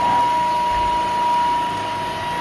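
A vacuum cleaner drones steadily nearby, its motor whine holding a constant pitch with a broad rushing hiss underneath.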